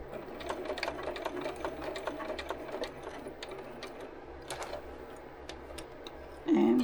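A sewing machine runs slowly stitching a quilted jacket sleeve, giving a steady, moderately soft mechanical hum with faint rhythmic ticking throughout.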